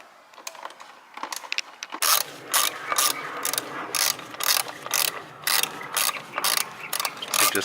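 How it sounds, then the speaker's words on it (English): A ratchet tool tightens the bolts on a car's engine air filter housing with rapid clicking bursts, quiet at first, then loud, close, repeated back-and-forth ratcheting strokes in a steady rhythm. "you can go ahead and use your ratchet tool and just give it nice and snug"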